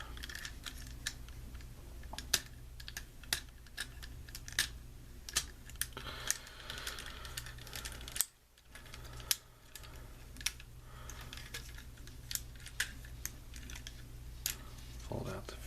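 A Transformers Fansproject Protector Rodimus Prime toy is handled and its plastic parts folded, producing a string of small sharp clicks and snaps close by while someone talks throughout.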